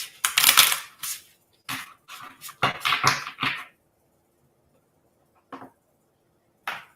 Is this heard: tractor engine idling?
no